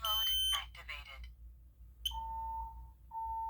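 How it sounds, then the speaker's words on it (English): A talking smoke alarm under test speaks in a synthetic voice, then gives sharp tonal beeps, two sustained tones separated by a short gap. "we're going to go ahead and test out this smoke alarm right here"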